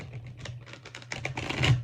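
A stiff, little-used deck of cards is shuffled, giving a quick run of crisp, close clicks and flutters that build into a denser riffle near the end, with no talk.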